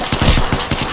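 Rapid P-27 gunfire in Apex Legends, a loud, close burst of several quick shots packed into under a second.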